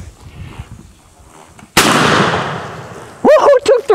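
Pistol shots fired at balloons on a spinning bicycle wheel outdoors, one sharp loud crack followed by a decaying rumble, then a voice cheering in short bursts.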